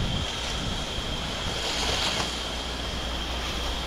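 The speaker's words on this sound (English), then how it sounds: "you see how the wind just going crazy today" Strong outdoor wind roaring steadily at a house during pressure washing, a continuous loud broadband rush buffeting the microphone for the whole stretch, with no talk.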